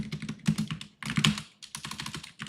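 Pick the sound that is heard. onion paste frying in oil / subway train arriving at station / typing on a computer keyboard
typing on a computer keyboard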